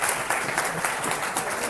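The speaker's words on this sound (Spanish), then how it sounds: "Un aplauso para María Rosa." Audience applause for María Rosa at a lecture, steady dense clapping from a crowd filling the short moment, with no voices over it.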